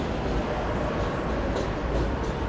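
A New York subway train rolls by on the line between Manhattan and Queens, a steady, close rumble of wheels and cars filling the whole stretch, with faint rail clatter and a light high squeal near the end.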